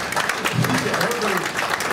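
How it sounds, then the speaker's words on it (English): Club members at a Lions Club meeting clap briefly during a going-away announcement for the club president, with a voice speaking over the clapping. "applaud that"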